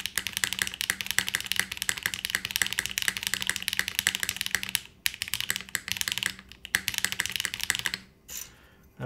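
Fast, continuous typing on a foam-dampened mechanical keyboard with GMK keycaps makes a dense patter of close, crisp clacks, which pauses briefly near the middle and thins out toward the end.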